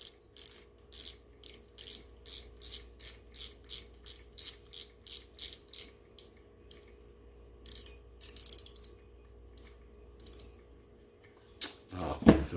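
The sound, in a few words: screwing the drag key back onto a fishing reel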